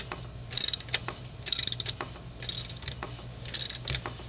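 A ratchet snugging up an alternator bolt on a 1.6L Kia Soul, with close, crisp clicking in four regular bursts of rapid pawl ticks separated by short pauses.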